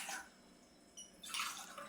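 Water is poured by the tumbler into a cooking vessel for a home cough remedy in two short splashing pours, close and fairly quiet, separated by a brief pause.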